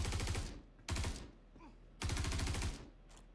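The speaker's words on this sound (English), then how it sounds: "Why does it keep sounding like I'm getting shot? I'm like hearing bullets hit me." Bursts of rapid gunfire strike the player in the Star Citizen video game, three dense rattling volleys separated by short pauses, loud and close.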